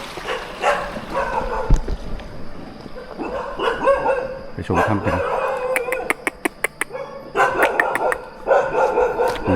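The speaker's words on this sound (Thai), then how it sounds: "น้องหมาเห่าต้อนรับ" A dog barks in sharp, repeated bursts close by, at a hillside home near an old mountain cave retreat used by monks, with a rooster crowing too and someone talking in between.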